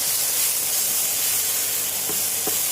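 Mixed mushrooms and chilli are stir-fried in a hot pan for a Chinese restaurant-style dish, giving a loud, continuous steamy hiss and sizzle with a couple of faint scrapes near the end.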